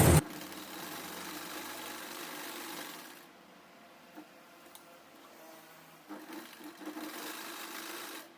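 A domestic sewing machine stitches a long frock, running in a steady mechanical whir with a brief pause partway before resuming, moderately loud and close with no talk.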